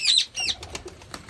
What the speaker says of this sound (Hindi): कबूतर है, माशाल्लाह, बहुत अच्छा कबूतर।